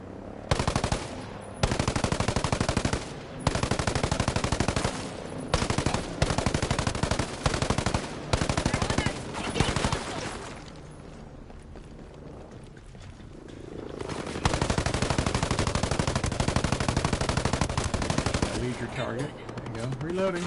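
Rapid automatic gunfire from Ghost Recon Breakpoint, long loud bursts broken by short gaps, with a quieter lull midway before heavy firing resumes.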